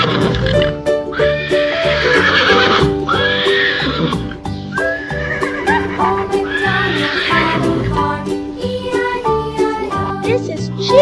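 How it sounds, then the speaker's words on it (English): A horse neighs with repeated whinnying calls over a constant musical backing in a children's farm-animal song setting, the calls loud and close, rising and falling across the stretch. "This is Horse."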